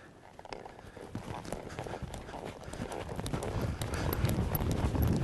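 Horse hooves clip-clop at a quickening pace while a rider works a cow along a fence, the steady footfalls growing louder over several seconds amid ambient field noise.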